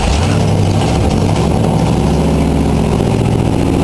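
A Cadillac engine runs loud and steady just after the choke is closed, with a rough, throbbing low rumble and no pause.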